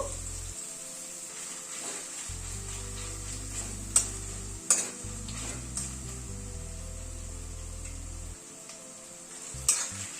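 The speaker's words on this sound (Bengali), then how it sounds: "গ্যাসের ফ্লেমটাকে মিডিয়ামে করে দিয়ে পেঁয়াজটা ধীরে ধীরে একটু ফ্রাই করে নেব" Onion frying slowly in a pan over a medium gas flame, a quiet, steady sizzle with occasional ticks and clinks of stirring and a low hum underneath.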